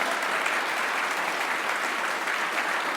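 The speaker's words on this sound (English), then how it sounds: "Give her a warm applause" Steady, dense applause from an audience after an artist talk at the Kunsthal, a continuous wash of many hands clapping at even volume for the full length, with no talk.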